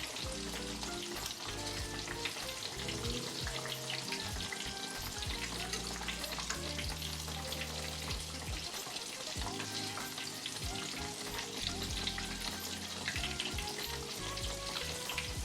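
Catfish fillets frying in hot oil, a dense, steady sizzle and crackle that runs loud and unbroken throughout, close up with no voices.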